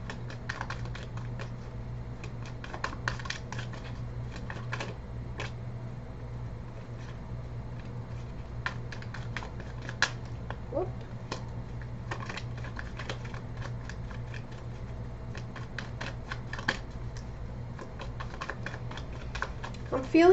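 Tarot cards shuffled by hand during a reading, a steady run of soft crisp clicks and riffles with occasional louder snaps, close and moderately quiet over a low constant hum.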